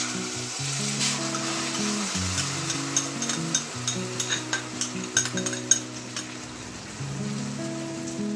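A ground paste of tomato, onion, ginger and garlic hits hot oil already holding cinnamon and cloves, giving a loud continuous sizzle with spattering crackles and stirring scrapes, while soft background music plays underneath.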